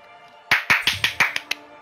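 A single person claps about seven times at close range, sharp distinct slaps in an uneven rhythm over faint background sound, fading quickly after each hit.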